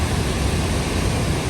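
Floodwater of the swollen Bagmati and Bishnumati rivers rushes through a gorge beside a temple in Kathmandu during heavy rain, a loud, constant broadband roar with no pauses.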